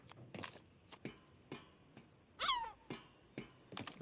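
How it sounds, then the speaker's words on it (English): Seagulls cry in the XIII video game, with one wavering squawk rising over a faint background of soft rhythmic taps and ticks, distant and quiet. "I'm hearing seagulls."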